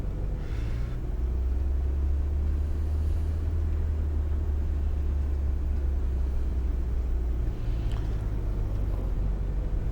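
Minibus engine in Tourist Bus Simulator drives along steadily, a continuous loud low drone that dips briefly near the end before resuming.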